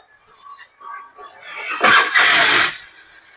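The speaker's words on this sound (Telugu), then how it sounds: "ఈ బండి కూడా సెల్ఫ్ కొట్టి అయితే చూపిస్తాను" A 2018 Suzuki Access BS4 scooter is started on its self-starter: a brief whirring crank catches into a loud, close engine burst, preceded by someone talking.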